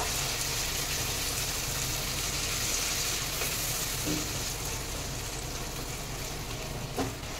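Spice masala for dhaba-style chicken curry fries in oil over a very low flame as sour yogurt is stirred in, giving a steady, dense sizzle throughout with a few faint utensil scrapes near the end.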